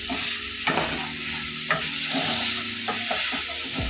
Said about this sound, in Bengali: এবার ফুলকপিগুলো দিয়ে কিন্তু ভালোভাবে একটু মশলাটা দিয়ে আমি মিশিয়ে নিয়েছি।